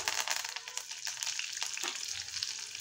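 Crushed garlic and curry leaves sizzle and crackle steadily in hot oil while a mango rayta is prepared, with a close, continuous frying hiss and occasional soft stirring sounds.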